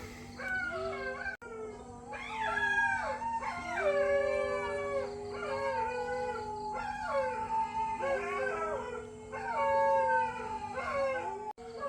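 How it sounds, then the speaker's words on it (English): Several village dogs in Udon Thani, Thailand, howl together in long overlapping wavering calls, fairly close and continuous for about twelve seconds, with no talk. "you can hear the dogs, they're howling, it's time."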